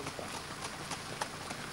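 A horse walking slowly on a riding track, its hooves giving a soft, regular clip-clop of several steps, fairly close under faint background noise.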